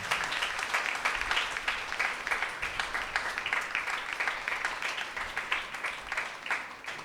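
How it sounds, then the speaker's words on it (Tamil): Congregation applauding during a Tamil Catholic Mass in the third week of Advent: a dense, steady wash of many hands clapping at close range that keeps going for several seconds before easing slightly. "கிட்டத்தட்ட உறுதியாக கரவொலி எழுப்பி பாராட்டுவோம்."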